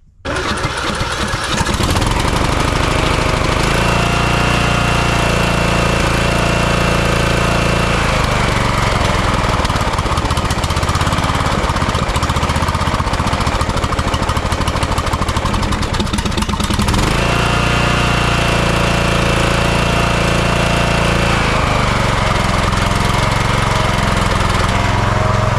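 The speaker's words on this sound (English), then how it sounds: "I need to get a good battery in that mower to make sure we're A-okay. But I'm gonna let it run for a while" A Briggs & Stratton lawn mower engine starts and then runs steadily, a loud, close, continuous drone with slight shifts in pitch and no talking.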